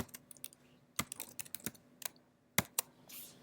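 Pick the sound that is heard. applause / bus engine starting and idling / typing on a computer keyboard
typing on a computer keyboard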